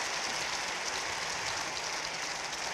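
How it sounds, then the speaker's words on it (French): An audience applauds after a talk, a dense, steady wash of clapping that holds evenly throughout at moderate loudness with no voices over it. "On vous applaudit très fort."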